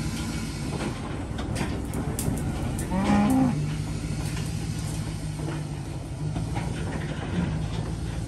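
A weaned calf in a pasture lets out one drawn-out moo midway through, standing out over a steady low rumble of background noise.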